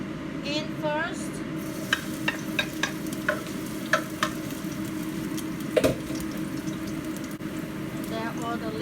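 Garlic sizzling in two tablespoons of oil in a soup pot, the start of a seafood cioppino, giving a steady loud frying hiss with scattered stirring clicks and light utensil taps, and voices talking over it.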